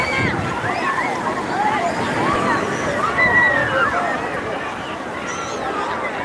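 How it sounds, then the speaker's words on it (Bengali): Sea water sloshes and washes steadily at Digha beach during ebb tide, a continuous broad rush of surf with distant crowd babble beneath it. "আস্তে আস্তে করে জল কমছে ভাটা হচ্ছে এখন"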